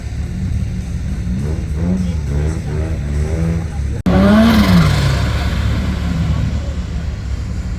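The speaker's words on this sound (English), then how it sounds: "let's see a solo run of the BMW M4" A BMW M4 makes a solo drag-strip run, its engine droning and rising in pitch through the gears before a sharp break and a loud roaring surge that holds strong; a voice talks over the engine at moments.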